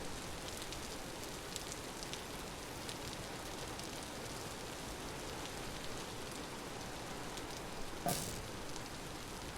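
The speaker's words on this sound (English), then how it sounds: "raining like crazy, but the night's pretty calm" Heavy rain pours steadily in the survival game Vintage Story at night, a dense, continuous hiss of drops on surfaces with no talk over it and one brief sharp click near the end.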